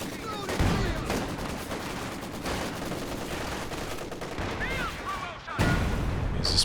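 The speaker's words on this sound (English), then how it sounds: "There's this barrage trying to clear out the MG behind Stugreck there." Artillery barrage in the WWII strategy game Company of Heroes 2, a steady roar of distant shelling and gunfire rumbling for several seconds, with brief louder thumps near the start and end.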